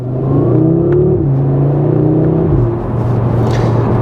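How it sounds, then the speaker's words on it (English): A 2023 Audi RS3 drives on the road and accelerates, its engine note rising through revs with steady loud rumble, a gear-change dip around the middle and continued strong pull, heard close from inside. "how do they perform on the road? Well, let's find out, starting with the RS3."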